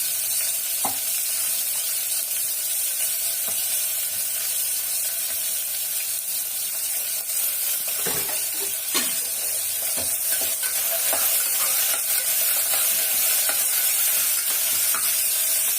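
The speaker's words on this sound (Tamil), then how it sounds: "வெங்காயம் நல்லா பொன்னிறமா வதங்கணும்." Two large onions with curry leaves sauté in a pan for chicken biryani, a steady close sizzle throughout, broken by occasional scraping stir strokes.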